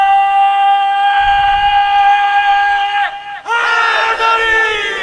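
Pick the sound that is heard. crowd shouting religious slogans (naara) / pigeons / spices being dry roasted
crowd shouting religious slogans (naara)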